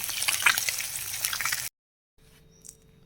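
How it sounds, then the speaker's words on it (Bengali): Pabda fish frying in hot oil, a steady crackling sizzle for about a second and a half before cutting off, then a fainter low sizzle with a brief clink. "মাছগুলো উল্টে দিয়েছি, উল্টো পিঠটা ভাজা হয়ে গেলে তুলে নেব"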